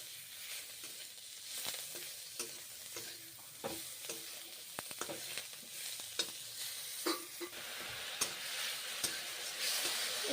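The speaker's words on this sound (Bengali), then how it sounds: "নিম পাতা ভাজা রান্না করছি" Neem leaves fry in hot oil in a pan while a spatula stirs them, giving a soft continuous sizzle broken by sharp scrapes and clicks against the metal every second or so, with no talking.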